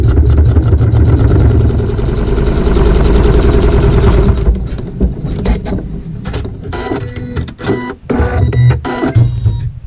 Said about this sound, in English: it's going to sew a tack down stitch using the regular thread